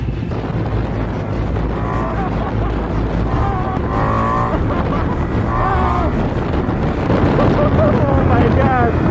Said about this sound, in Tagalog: This is the 2021 Ducati Multistrada V4S.